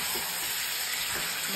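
Masala paste for a chicken dish sizzles loudly in hot oil, a dense, constant frying hiss close up with faint stirring underneath.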